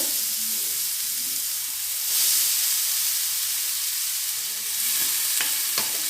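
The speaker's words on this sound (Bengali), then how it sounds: "হালকা আগে ভাজতে হবে তাহলে ভালো করে সেদ্ধ হবে মূলগুলো" Drained radish frying in a pan over low gas, a soft continuous sizzle and hiss with a few faint stirring clicks, fairly quiet and without talk.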